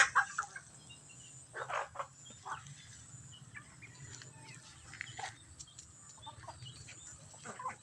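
Chickens and chicks kept for sale, scattered clucks and short calls at varying distances over a quiet background, some bursts nearer and louder than others.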